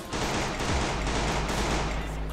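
Gunfire in the Free Fire battle royale video game: a dense, continuous burst of rapid shots filling the whole moment, loud and close with no talking over it.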